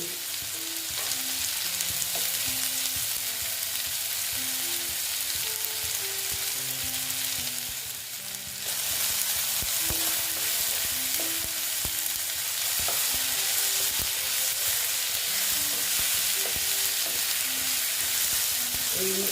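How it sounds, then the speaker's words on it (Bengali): Onions and potatoes frying in a pan for ghugni: a steady, dense sizzle with occasional stirring scrapes, close and continuous, under a soft melodic tune, with a brief dip in the middle. "পেঁয়াজের সঙ্গে আলুটাও মোটামুটি আমার ভাজা হয়ে যাচ্ছে"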